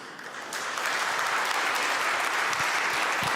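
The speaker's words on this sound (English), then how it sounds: "Maybe the audience can give an applause to what he has done with his team here." Applause from the audience at a Freestyle Chess Grand Slam Tour event, a dense wash of many hands clapping that swells after a moment and holds steady.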